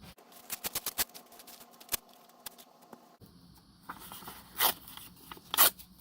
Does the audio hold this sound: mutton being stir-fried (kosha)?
no